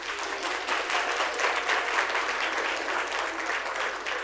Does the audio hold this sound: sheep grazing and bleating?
no